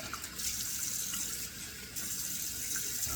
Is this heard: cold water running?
yes